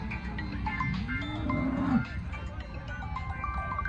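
A single dairy cow moos once, a low drawn-out call rising and falling, with faint farmyard sounds and a little background talk around it.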